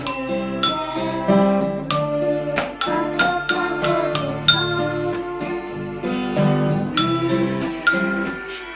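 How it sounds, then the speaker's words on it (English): Mobile phone ringtone playing the Nokia tune, a bright chiming melody of repeated bell-like notes that rings on clearly and continuously for several seconds, alone with no talk. "My phone is ringing."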